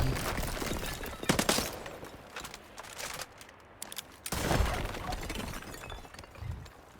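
Gunshots in the Highguard shooter game come as scattered sharp cracks and short bursts of fire at a moderate level, with a quieter gap in the middle and crunchy impacts afterward.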